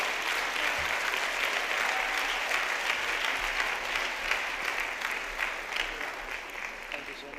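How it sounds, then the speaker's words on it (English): Steady applause from an audience welcoming a tenth-grade student speaker at a school event, a continuous wash of clapping that stays loud throughout with a slight fade near the end. "Give him a hand."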